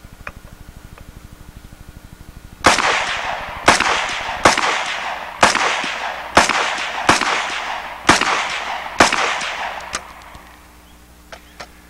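Rapid series of eight loud gunshots from a straight-back design gun fired in quick semi-aimed succession, each sharp crack trailing off in a short decay, heard after a low steady hum.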